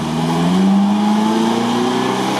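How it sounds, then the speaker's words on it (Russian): A UAZ off-road vehicle picks up speed on a spring off-road course, its engine note climbing steadily in pitch under a loud, close, rough drone with no talk. "Да, Витя берет разгон и нормально едет"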